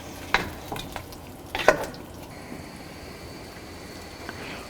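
Fried duck is stirred in a pan: a couple of scraping, clattering strokes ride over a low, steady sizzle, then the pan settles into a quieter background hiss.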